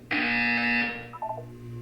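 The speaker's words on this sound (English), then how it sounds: "You will hear a buzzer." A loud electronic buzzer from the video game Portal 2 sounds for about a second in a single steady harsh tone, then cuts off, followed by a brief fainter chime-like blip.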